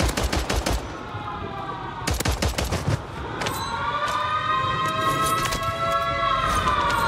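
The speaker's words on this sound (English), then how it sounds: "The sirens just get me stressed for no reason" Wailing air-raid sirens sweep across a Call of Duty Warzone match on Rebirth Island, rising steadily and droning loud under bursts of rapid gunfire at the start and again around the two-second mark.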